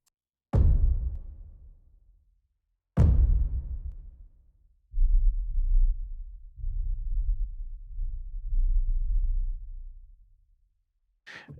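A Spitfire Audio Hammers sub hammer percussion sample: two deep, booming hits decay slowly, then a low sustained sub rumble pulses in three swells before a brief sharp tail.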